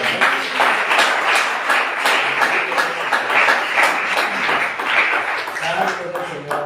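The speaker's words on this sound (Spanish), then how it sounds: "¿Quién le puede dar un aplauso al Señor por ese aplauso?" A church congregation claps together during a Spanish-language sermon, dense steady applause filling the room at close range for several seconds.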